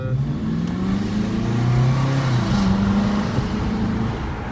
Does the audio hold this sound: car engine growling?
yes